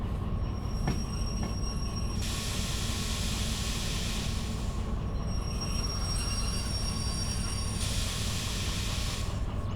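Train cars in the Derail Valley game are shunted along rails, giving a steady heavy rumble under long high wheel squeals and hissing brake air that flare up and fade in bursts, with no talking.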